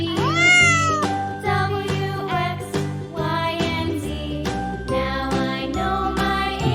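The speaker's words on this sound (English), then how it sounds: "Nice cat." A cat's meow rings out in a bright cartoonish jingle, a rising call at the start, then repeated tonal notes under a steady musical backing, loud and up front.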